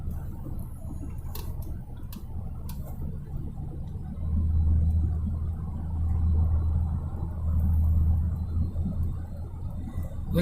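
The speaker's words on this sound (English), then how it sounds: "Look at that traffic over there." Rush hour road traffic in Jacksonville, Florida, a continuous low rumble of distant cars that swells louder midway, with faint ticking near the start.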